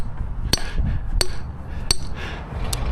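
A hammer pounds pins into the ground during concrete work, four sharp ringing metallic strikes spaced about two-thirds of a second apart over an outdoor background, loud and near, with no speech.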